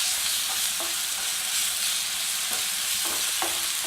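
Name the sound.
ginger garlic paste being sautéed in a pan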